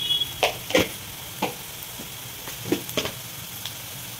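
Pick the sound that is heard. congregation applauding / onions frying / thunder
onions frying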